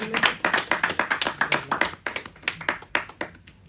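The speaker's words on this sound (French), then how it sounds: "Est-ce que ça ne mérite pas quelques applaudissements, même si on est là?" An audience claps in a steady, rhythmic beat at a Congolese music event, crisp and close, with no talking over it.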